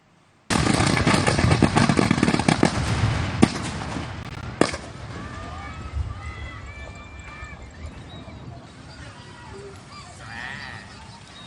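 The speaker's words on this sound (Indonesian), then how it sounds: "Inilah video amatir saat balon udara berisi petasan berukuran jumbo meledak." A jumbo hot air balloon packed with firecrackers explodes before takeoff in Ponorogo, East Java: a sudden loud, dense burst of crackling bangs with sharp reports, tapering into a lingering roar while voices shout and talk nearby.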